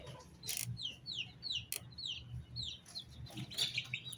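Young Leghorn chickens, about two months old and hatched in a homemade incubator, give a rapid run of high, thin chirps, close and steady over faint background noise.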